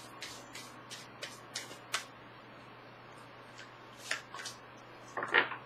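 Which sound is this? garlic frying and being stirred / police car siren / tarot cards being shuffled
tarot cards being shuffled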